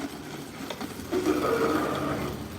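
Outdoor RC car running over metal, a faint, buzzy mechanical whir and rattle that swells slightly midway and keeps up steadily throughout.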